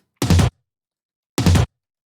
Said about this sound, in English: And then a couple toms, random tom hits.